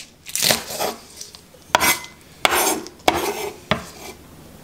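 A knife roughly cutting spring onion on a board, about five separate crisp, fairly loud chops with rustling of the onion in between, alone without talk.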